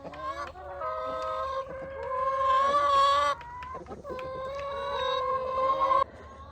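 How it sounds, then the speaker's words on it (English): Backyard chickens and a rooster cluck and call at close range in a noisy, overlapping run of squawks and clucks for several seconds, with no talk. "And Rainbow, our rooster, overlooking the flock there."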